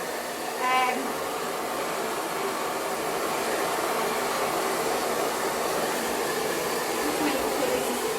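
A hair dryer blows steadily while drying a dog's coat around the neck during grooming, a constant airy whoosh running for the whole stretch at close range with no talk over it.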